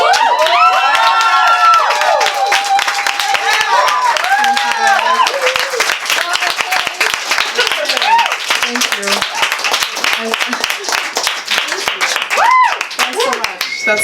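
An audience at a poetry reading applauds with sustained clapping and some cheering, loud and close throughout, while voices carry over the applause.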